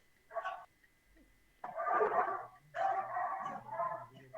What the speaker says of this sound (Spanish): se han agarrado mis perritos a pelear